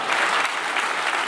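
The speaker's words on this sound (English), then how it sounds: "Give it a round of applause." Audience applause at a live talk on chaos theory, a dense steady wash of many hands clapping at close range, continuous and fairly loud throughout the short burst.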